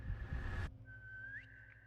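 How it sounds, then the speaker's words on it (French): A sharp, clear whistle in the woods. It starts as a steady tone behind a short burst of loud rustling noise, then rings on alone, bending upward near its end before fading. "c'est un putain de sifflement"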